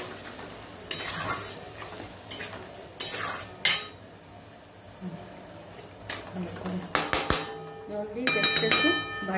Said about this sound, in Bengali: দিয়ে আমি ভালো করে নাড়বো